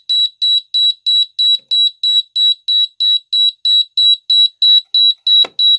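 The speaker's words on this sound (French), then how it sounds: "l'alarme technique numéro 1 est en alarme" Rapid, evenly spaced high-pitched electronic beeps repeat steadily from an alarm panel, loud and close, with a short click near the end.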